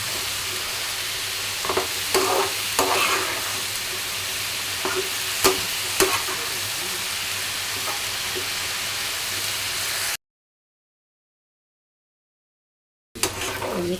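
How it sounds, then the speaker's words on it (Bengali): Bitter gourd and cauliflower fry in a pan with a loud, continuous sizzle, broken by occasional sharp clicks and scrapes of stirring. The sound cuts out to silence for a few seconds, then the frying resumes. "এখন করলা আর ফুলকপিটাকে ভালো করে ভাজি করে নেব।"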